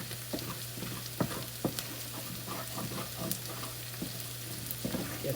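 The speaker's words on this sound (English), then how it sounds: "Put the flour in there and then I let it brown." Flour browning in a pan on medium heat as the base for gravy, giving a soft, steady sizzle with scattered light scraping and stirring clicks, quiet and close with no talking.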